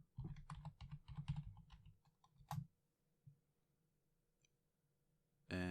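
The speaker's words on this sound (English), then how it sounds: "So we'll just type that in here." Typing on a computer keyboard while entering a WordPress plugin search: a quick burst of close, soft key clicks, then a pause, a few scattered taps and a louder final click, heard without speech.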